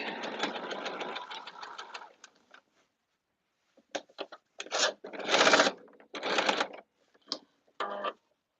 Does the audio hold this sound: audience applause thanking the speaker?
no